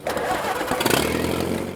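An Allis-Chalmers tractor engine cranks and starts, then settles into a steady, loud mid-pitched run that continues for the rest of the moment, close by and with no talking over it.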